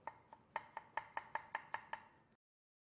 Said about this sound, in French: on va couper l'ananas en morceaux